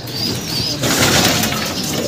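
Close, steady pigeon cooing with soft wing flutters and chirps over a constant outdoor rustle as two pigeons arrive in San Rafael, Bulacan, Philippines.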